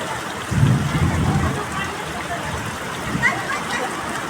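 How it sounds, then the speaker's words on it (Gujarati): Steady rain pours during the year's first downpour, a continuous hiss with a low rumble near the start that may be thunder, and people talk over it. "તો વરસાદ આવે છે"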